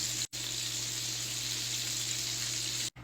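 Meatballs sizzle and fry steadily in a pan on the stove, a close, continuous crackle with two brief breaks near the start and end.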